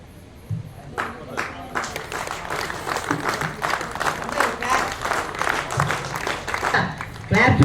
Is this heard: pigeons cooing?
no